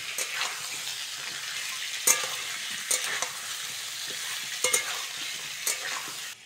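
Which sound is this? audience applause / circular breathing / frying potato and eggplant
frying potato and eggplant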